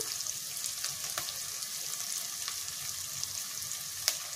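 Chillies frying in hot oil for Bengali chana ghugni, a steady close sizzle with occasional sharp pops and crackles over a constant hiss.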